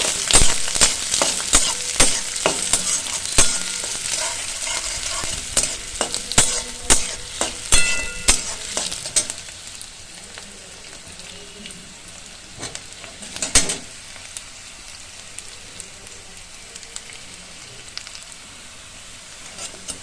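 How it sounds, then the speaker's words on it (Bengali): Onions frying in a pan: a steady sizzle with repeated scraping stirs and clinks for several seconds, then a quieter sizzle with one more stir. "পেঁয়াজগুলো ভালো করে ভেজে নেব।"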